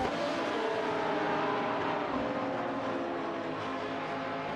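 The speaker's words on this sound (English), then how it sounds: "Buxizero is piloting a Seat Cupra GT while Bobardo is maneuvering an Aston Martin DBR S9." Race cars in a racing video game, a Seat Cupra GT and an Aston Martin DBR S9, producing a continuous high engine whine and road roar at steady moderate level, no talk.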